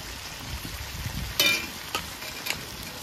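Cut potatoes frying in fish oil from catla fish, a steady close sizzle with a few sharp stirring clatters in the middle, no voices.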